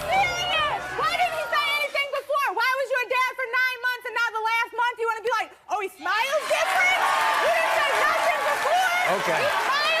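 A studio audience on a daytime talk show cheers and claps loudly as a man walks on. The crowd noise swells at the start and end, and voices talk over it in between.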